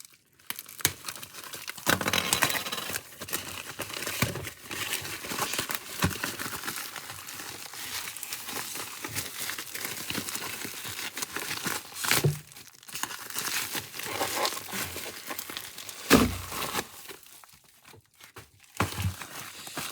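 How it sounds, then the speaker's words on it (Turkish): Plastic wrapping around a giant 6x6 Moyo Rubik's cube box is torn and crinkled open by hand, a steady stream of crackling, tearing rustles with several sharper rips, close and fairly loud throughout. "Diğer bir paketi de açalım."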